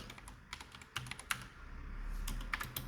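Code being typed on a computer keyboard, with irregular bursts of crisp key clicks and short pauses, close and fairly quiet over a low room hum.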